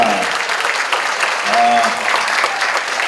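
Audience at a UN World Youth Day ceremony applauds a performer, sustained clapping with a voice or tone briefly heard over it midway.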